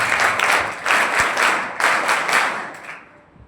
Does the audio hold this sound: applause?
yes